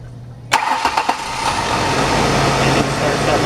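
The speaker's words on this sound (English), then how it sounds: "Engine starts up right away." A Ford Ranger with a bad fuel pump cranks briefly and its engine catches at once, settling into a steady, loud close idle.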